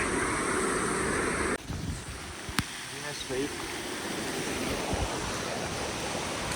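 A river swollen by monsoon rain rushes in the Valparai hills, a loud continuous roar that dips briefly and then carries on, with a voice speaking faintly over it.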